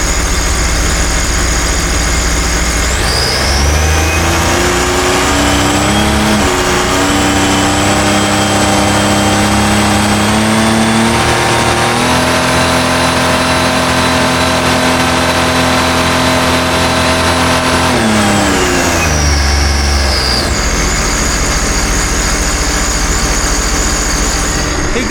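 A 2020 Sea-Doo RXT-X 300 jet ski engine, suspected of a cracked part, idles loudly then revs up under throttle, holding a high rising drone for several seconds before dropping back to idle, continuous and close.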